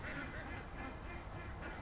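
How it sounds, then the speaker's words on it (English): A line of ducks quacks continuously at a distance, a faint, steady chorus of overlapping calls with no talking over it. "we got a duck train here"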